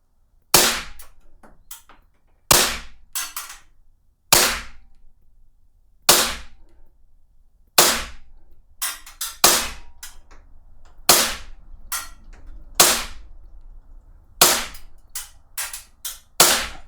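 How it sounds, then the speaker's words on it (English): An EMG SAI BLU CO2 blowback airsoft pistol fires a string of sharp, loud snapping shots at irregular intervals, some in quick pairs, with no talking. "Wow, this gun is a pleasure to shoot."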